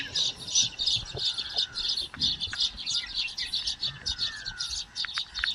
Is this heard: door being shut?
no